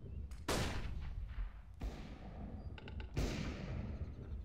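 A flashbang grenade goes off in a tactical shooter, heard as a sharp, loud broadband bang with a ringing tail, followed by further bursts of gunfire-like blasts a couple of seconds later.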